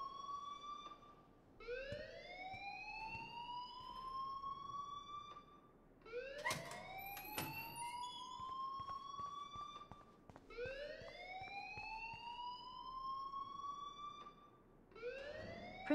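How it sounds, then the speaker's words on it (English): An electronic alarm in the Life Is Strange video game wails in repeating rising sweeps, each lasting a couple of seconds, steady and fairly loud with no talk over it. "please turn off that alarm"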